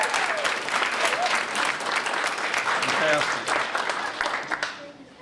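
Audience applause fills a graduation ceremony for the JC/LISD Academy class of 2024, a dense, steady clapping from a large crowd that carries on loudly before thinning out near the end.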